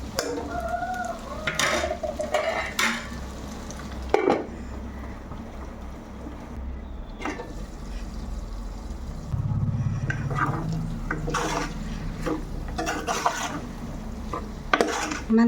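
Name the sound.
potatoes being cooked and stirred in oil in a pan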